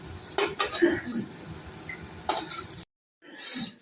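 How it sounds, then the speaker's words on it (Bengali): Eggplant fries in a pan with a little oil and turmeric, sizzling softly as a utensil scrapes and stirs in short strokes, then a brief silence and one more burst. "এই বেগুনটা একটু লাল লাল করে ভেজে নিচ্ছি।"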